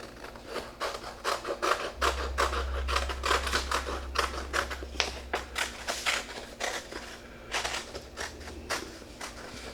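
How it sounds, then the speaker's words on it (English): Two stacked pieces of sign material are cut together with scissors, giving a steady run of crisp, rapid snipping and crunching strokes, close and fairly loud throughout with no talking. "I'm just going to put two pieces together and then cut them."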